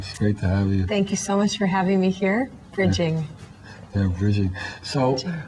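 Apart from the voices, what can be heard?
None of the usual background noises is heard.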